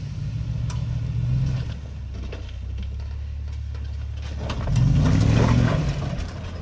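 An off-road vehicle's engine idles low and then revs up in two surges as it strains to climb a rock obstacle, steady and close, with no talking.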